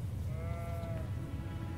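A sheep bleats in the Elden Ring video game, a single wavering, drawn-out cry heard over a steady low background hum, fairly faint and without any talk.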